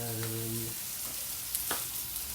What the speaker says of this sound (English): now she is going to fry up the the carrots and the potatoes